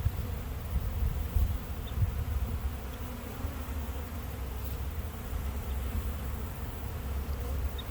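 Honey bees buzz around their hive in a dense, steady drone that fills the air and holds without a break.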